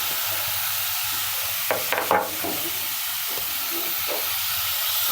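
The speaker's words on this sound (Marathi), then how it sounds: "त्याला चांगलं फ्राय करायचं." Grated bottle gourd sizzles and hisses steadily as it fries in ghee, with a few brief scraping stirs cutting through the constant frying noise.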